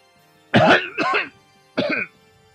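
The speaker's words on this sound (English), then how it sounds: "I coughed at the oppressive offense to my lungs." Three sharp, harsh coughs from someone choking on thick smoke, two close together and a third after a short pause, heard alone against a quiet background.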